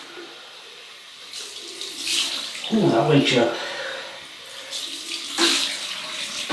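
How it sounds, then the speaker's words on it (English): Cold water runs from a tap for a rinse after a wet shave, with a low steady flow and louder splashing bursts as water is scooped and thrown. A man exclaims briefly between the splashes. "cold water rinse"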